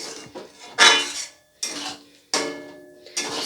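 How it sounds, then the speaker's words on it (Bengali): Tomato paste and spices being stirred in a pan for chicken masala, with loud metal spoon scrapes against the pan in four distinct bursts separated by short pauses, close and clear with no talk. "টমেটোটা দিয়ে খুব ভালোভাবে সমস্ত মশলার সাথে কষিয়ে নেব।"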